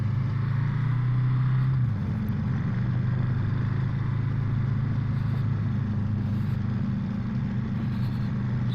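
A Ducati Monster motorcycle rides through traffic in sport mode, its engine droning steadily and close with a brief pitch drop early on, mixed with continuous road and wind rush.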